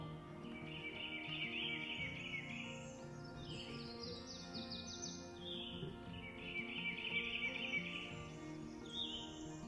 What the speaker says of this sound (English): You could hear the slow lapping of the water and birds chirping out in the distance